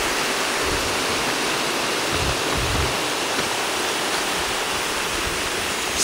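A waterfall and stream pouring into a deep swimming pool at Cascada Exotica in Hatillo, a steady, dense roar of rushing water that stays constant and close throughout, with no voices.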